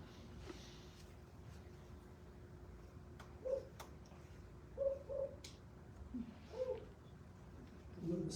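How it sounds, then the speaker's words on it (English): A spotted owl calls with a few soft, hooting notes spaced irregularly, faint and distant against a quiet forest background with scattered clicks. "Spotted owl."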